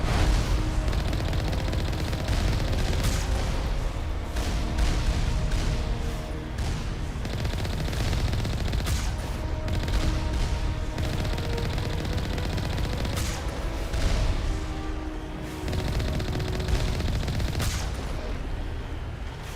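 Roaming turret platforms in Mass Effect 1 Legendary Edition fire dense, continuous bursts of gunfire that stay loud and close throughout, layered with booming impacts and no speech.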